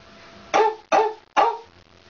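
A girl imitates a dog barking with her voice, giving three sharp, loud barks in a quick rhythm, close and alone.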